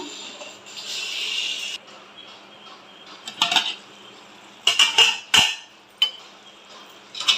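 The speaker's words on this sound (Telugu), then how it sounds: "ఒకసారి మూత పెట్టేసి ఒక పావు గంట ఉడకనిద్దాం" A metal lid set onto a pot of chicken gravy curry, a few clattering clinks and taps close by after a soft hiss of cooking.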